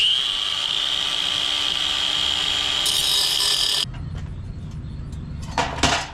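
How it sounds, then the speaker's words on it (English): A grinder cuts the flanges off the exhaust pipe of a 2017 Mustang GT, a loud steady abrasive whine running alone for several seconds, then a rougher, lower grinding with a brief sharp scrape near the end. "So I'm going to get to grinding."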